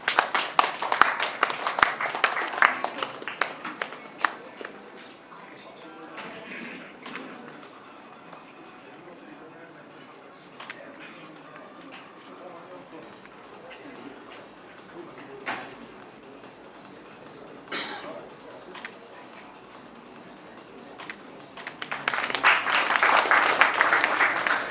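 Audience at a foundation day celebration applauds, with a burst of hand clapping at the start that thins to scattered claps, then swells again into dense applause near the end while a speaker talks.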